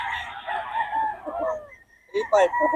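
Roosters at a gamefowl market in Bocaue crow loudly and close, one long crow followed by a second crow starting after a short pause, with low clucking and murmuring in the background.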